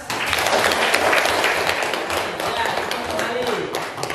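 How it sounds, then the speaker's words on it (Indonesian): Applause from a classroom group fills the room, a dense patter of clapping that holds steady for about four seconds, loud and close, with a few voices mixed in. "Oke, kasih aplaus."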